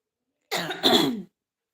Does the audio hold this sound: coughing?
yes